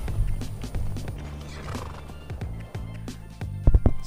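A horse in the video game Skyrim whinnies while its hooves clip-clop in uneven bursts, fairly close and moderately loud, the neighing swelling and fading between the hoofbeats.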